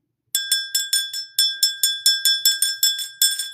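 A small bright bell struck repeatedly in a quick, even rhythm, about a dozen clear metallic rings with short decays, close and alone.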